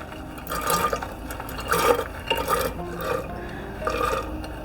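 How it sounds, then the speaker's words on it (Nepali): Kwati mixed beans drop into water in a pressure cooker, giving a run of close liquid gurgles and splashes in uneven pulses at moderate volume. "अब क्वाटी राखिदिन्छु।"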